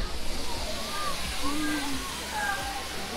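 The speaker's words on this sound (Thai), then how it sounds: "เดินมาถึงแล้วค่ะน้ำตกมิโนะอยู่ทั้งนี้" Minoo waterfall in Osaka among autumn foliage, a constant broad rush of falling water, with faint voices of visitors nearby and no clear pauses.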